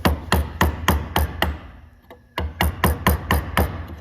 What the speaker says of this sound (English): So I'm going to take a smaller chisel, a 1/2 inch, and get it right on that score.